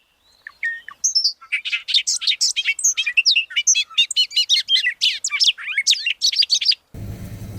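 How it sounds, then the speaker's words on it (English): A bobolink sings in a Northern Ontario field, a long, loud, close run of bubbly, tumbling chirps and metallic warbles lasting several seconds before the song cuts off into quiet outdoor background. "Bobolink. That's what it's called."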